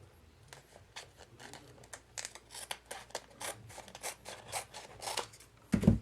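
Scissors trim a car decal sticker in a rapid series of crisp snipping cuts, close and clear, ending with a louder thump as the work is handled.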